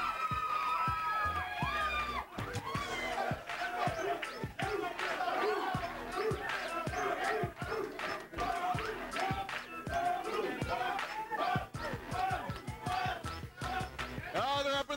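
A wrestling crowd at a Memphis Wrestling show cheers and shouts, a dense roar of many voices with sharp bursts and claps throughout, heard close with some talk mixed in.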